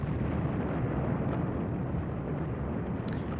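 An explosion detonates in the video game Evil Genius, heard as a sustained, dense, low rumbling blast that stays steady and loud across the few seconds, with no voices.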